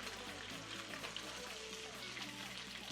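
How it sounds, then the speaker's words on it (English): Fish fry in hot oil in a pot, giving a steady close crackling sizzle with faint talk underneath. "Last two fish, and that's it for the frying of fish today."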